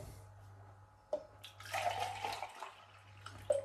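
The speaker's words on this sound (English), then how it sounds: "I'll just decant it instead." A drink is poured out of a leaky shaker cup, a gurgling splash of liquid running for a second or two, framed by a few soft knocks and a low hum in the background.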